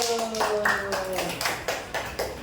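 A classroom group claps for the first team of students, a burst of scattered hand claps layered over voices and tonal sounds in a Christian religious education lesson.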